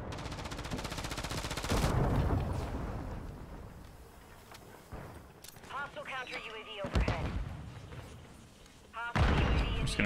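Automatic fire from an MTZ-556 rifle in Modern Warfare 3, with loud bursts of rapid shots at the start and again near the end and scattered shots and game effects between, while a player talks over much of it.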